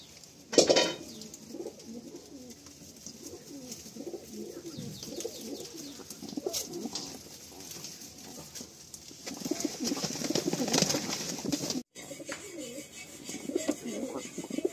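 Madrasi pigeons coo in soft rolling bursts close to the microphone, with a brief bump near the start, while someone talks intermittently over them.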